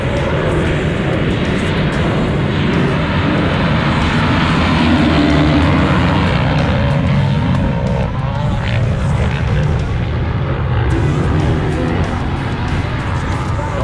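Motocross bikes race at the Glen Helen track in California, a loud, continuous roar of many engines from nearby that holds steady throughout.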